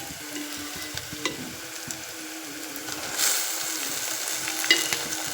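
Mustard greens saag frying in a pan on a chulha, heard as a continuous sizzle with stirring and scraping, and a brief louder surge of hissing partway through.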